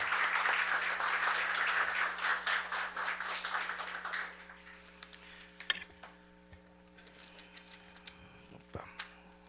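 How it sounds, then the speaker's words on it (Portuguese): Applause from the audience at a public hearing, a few seconds of brisk clapping from a small crowd that fades out, followed by quiet room noise with a steady hum and scattered small knocks. "Uma salva de palmas, gente."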